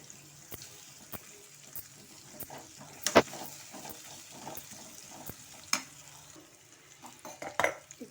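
Plantain slices with masala and salt are stirred in a pan: repeated scraping strokes and sharp metallic clanks of a spoon come at an uneven pace over a low sizzle, with no talking.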